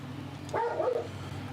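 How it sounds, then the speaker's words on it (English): Dog barking indoors, reacting to neighbors mowing; a single short, mid-pitched bark over a low steady hum, fairly close. "He's barking."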